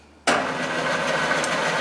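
A machine spindle fitted with an edge finder spins up abruptly after a short silence, then settles into a steady, even mechanical whir that stays loud and close.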